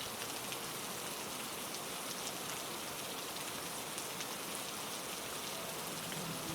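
Steady rain falls on the roof and stone of a library: a dense, continuous hiss of drops that stays even and close throughout, with no voices.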